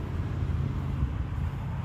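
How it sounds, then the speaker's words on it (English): Highway traffic drones as a steady, low, rumbling wash of passing vehicles in the background near a rock crawling spot, continuous with no distinct events. "Sorry about the highway noise in the back."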